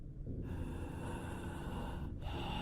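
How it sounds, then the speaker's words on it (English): Loud, steady breathing pressed close to a microphone, a continuous rushing hiss with a brief dip near the end, heard alone without any talking. "The sound of someone breathing into their microphone was what I was greeted with."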